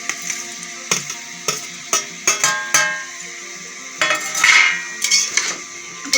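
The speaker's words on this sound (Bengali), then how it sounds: "এখন আমি দিয়ে দেবো ওইটার মধ্যে টমেটো।" Tomatoes going into vegetables cooking in a pot for sambar, with repeated clanks and scrapes of a utensil against the pot and a brief sizzle burst midway, fairly loud and close.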